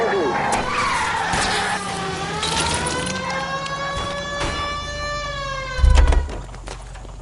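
Car tires skid and squeal during a chase in L.A. Noire, with engine drone and a long sliding screech. A heavy thump lands near the end, and a voice talks over the game sounds.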